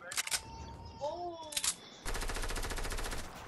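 Submachine gun fire in a desert battle-royale shooter on PS5: a few brief sharp shots, then a steady, rapid buzzing burst of automatic fire, with voices talking over the gameplay.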